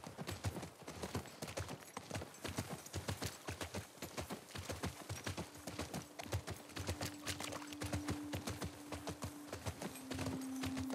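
Horses' hooves clip-clop in The Last of Us Part 2, a steady rapid rhythm of many close, loud hoof strikes continuing throughout with a faint sustained tone joining partway.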